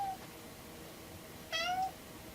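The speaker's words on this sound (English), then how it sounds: "that is my cat Rudy, who wants to be famous" A pet cat named Rudy gives two short meows, a faint one at the start and a clearer, louder one a moment later, in a quiet sewing room.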